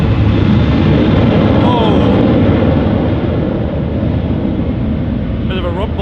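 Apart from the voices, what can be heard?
Ryanair aircraft rumbling at Manchester Airport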